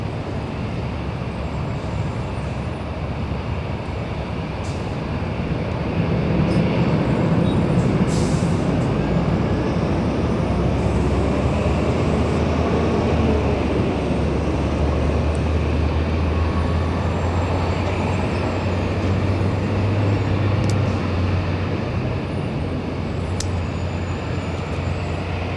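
Airliner takeoff roll on runway 24 Left at Los Angeles International Airport, a broad distant rumbling roar that builds after a few seconds and holds steady, with no talk.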